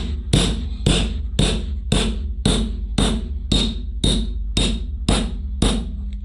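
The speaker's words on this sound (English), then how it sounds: "We're gonna take our hammer and our carpet tool." A hammer strikes a carpet tool again and again while a tartan stair runner is fitted onto stairs. About a dozen sharp, evenly spaced taps land close and loud, with no talking.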